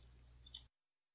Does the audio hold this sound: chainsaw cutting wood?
no